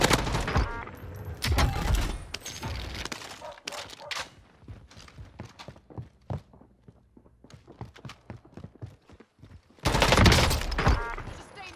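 Warzone gunfire arrives as heavy bursts of automatic fire at the start, then a run of scattered sharp single shots and clicks, and a dense, loud volley again near the end.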